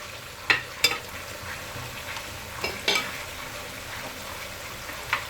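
Beef, onion and spices brown in a tagine with fennel, a low steady sizzle broken by several sharp scraping clinks of stirring, close up, with no talking.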